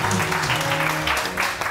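Studio audience on a morning TV show applauding for a singer, brief dense clapping with a voice murmuring underneath.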